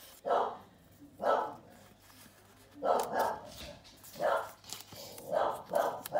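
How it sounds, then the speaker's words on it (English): A dog barks repeatedly in separate bursts spaced about a second apart, fairly close, against a quiet indoor background with a low hum. "I apologise for my dog barking."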